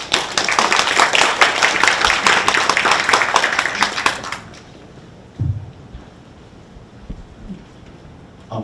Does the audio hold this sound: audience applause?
yes